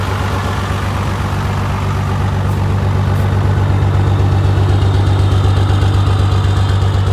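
Cummins diesel engine in a pickup truck running steadily, a loud, continuous low rumble with an even throb that holds throughout with no talk.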